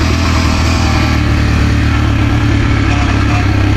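Steady, loud engine drone from a 172fmm motorcycle engine after porting work, a constant low rumble with an odd added noise running through the whole short stretch and no talking.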